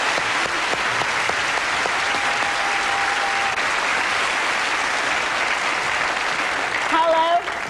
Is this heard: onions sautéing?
no